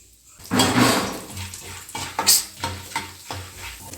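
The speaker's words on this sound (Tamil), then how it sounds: "அதே எண்ணெயில் பொட்டுக்கடலையும் போட்டு வறுத்து எடுத்துக்கலாம்" Roasted gram dal (pottukadalai) frying in oil in a pan while making kaara pori, with loud sizzling and repeated stirring and scraping of a spoon against the vessel, no talking.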